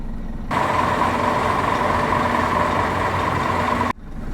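A Scania P 450 truck engine runs during a turning circle test, a loud steady diesel drone with a low hum that cuts in abruptly, holds level, then drops away.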